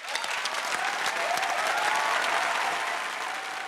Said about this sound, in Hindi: एक बार तालियां इनके लिए।